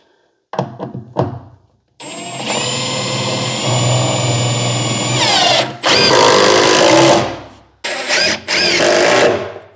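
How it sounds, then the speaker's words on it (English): A power driver runs screws in bursts during rewiring of a Clausing 8520 knee mill, loud and close, with a long whirring run and a few shorter spurts after some light knocks. "Put some screws in here"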